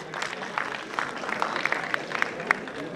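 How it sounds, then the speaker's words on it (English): Sustained clapping from an audience at a college annual day prize ceremony, a dense even patter of many hands at moderate distance. "Sound of clapping should not"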